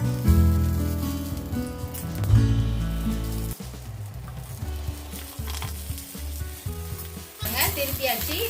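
Chicken polichathu wrapped in leaves fries in a covered pan with loud crackling sizzle, clattering as the parcels are turned and the lid shifts, and a sharp burst of spitting at the end.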